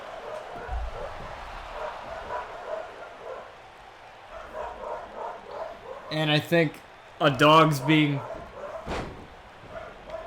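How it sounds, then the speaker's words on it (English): Dog barks and yips break out in two short bursts over a steady rumble of crowd and commentary noise at a wrestling event, with someone talking. "everybody's walking their dog today out in this rainy weather"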